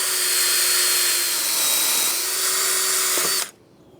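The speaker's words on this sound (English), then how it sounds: "I'm going to use a wire wheel to clean up these surfaces for the pads." A drill spins a wire wheel against a Jeep Wrangler JK rear brake caliper bracket, scrubbing the pad surfaces clean. It makes a loud, steady, high whine for about three and a half seconds, then cuts off abruptly.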